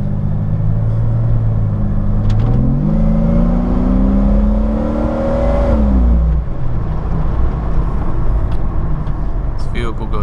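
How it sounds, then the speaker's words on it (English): A straight-six engine vehicle drones steadily with a rising then falling pitch as it accelerates and shifts, heard close from inside, with road rumble throughout. "These straight 6s are just great little engines."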